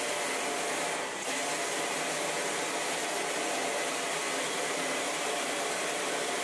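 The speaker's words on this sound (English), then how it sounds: "aqua blasting is popular with many clients due to that it can wash the parts at the same time of blasting." A liquid sandblasting (aqua blasting) cabinet runs steadily with a dense, even hiss of wet abrasive spray, constant and loud from start to finish with no voices.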